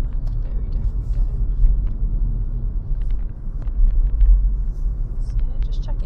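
A car rolling downhill on a rural road, its engine and tyre rumble low and steady from inside the cabin, with faint clicks over the drone.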